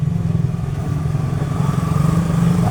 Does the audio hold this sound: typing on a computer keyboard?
no